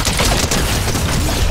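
Rapid bursts of gunfire in the Fortnite video game, dense and loud with overlapping shots throughout, no speech.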